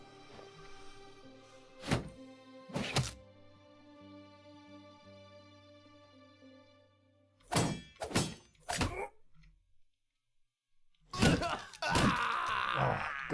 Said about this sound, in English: Oh, God, you can't beat the sound of a mace.